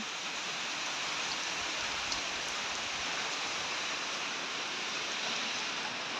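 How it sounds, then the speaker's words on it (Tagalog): Steady heavy rain pours down in a dense, constant hiss during a flood on a hillside farm, drumming evenly on surfaces with no pauses. "Nya kusog pa kayong ulan."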